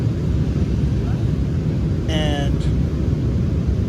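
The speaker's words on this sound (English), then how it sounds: "Plane is banking now." Airplane cabin noise during descent and banking on approach to land in Edmonton, a steady loud broadband engine roar with a brief chime partway through and a voice speaking.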